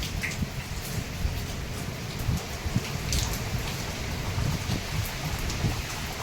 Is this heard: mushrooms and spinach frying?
no